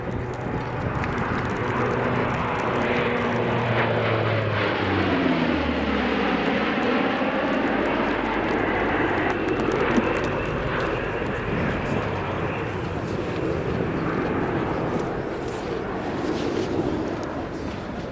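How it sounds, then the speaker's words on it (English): A German Navy Lockheed P-3C Orion four-engine turboprop makes a final pass and climbs out at an RAF Cosford airshow, its engine drone loud and close, sweeping in pitch as it passes, then fading under distant crowd ambience. "So final pass and a spirited climb out from the German Navy Lockheed P-3C"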